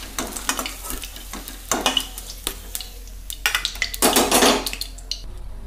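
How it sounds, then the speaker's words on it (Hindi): Eggs frying in oil in a pan for an egg curry, with steady sizzling broken by sharp clinks and scrapes of a utensil against the pan, close and moderately loud, no talking. "अंडा को 2 मिनट के लिए फ्राई कर लेंगे अच्छे से।"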